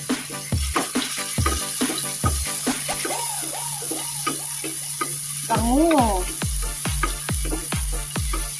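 Onion dropped into garlic frying in oil, a loud close crackling sizzle with rhythmic stirring strokes, the sizzle swelling briefly as the onion goes in.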